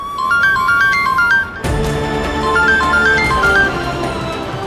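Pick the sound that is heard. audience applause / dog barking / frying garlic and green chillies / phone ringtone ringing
phone ringtone ringing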